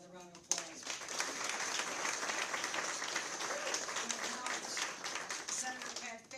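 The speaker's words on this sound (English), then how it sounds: "Let's give her another round of applause" A large audience gives sustained applause for New York Governor Hochul at a school cellphone policy announcement, dense clapping rising sharply and holding steady throughout.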